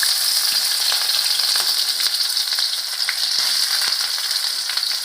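Onion added to hot oil with black mustard seeds sizzles in a dense, steady fry with scattered pops and crackles, close and loud throughout, no voices.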